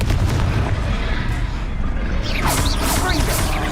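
A Confringo fire blast spell bursts in Hogwarts Legacy, a loud, dense roar of explosive impact that fills the whole stretch with crackling debris and rumbling low end, with sharper whooshing bursts near the end.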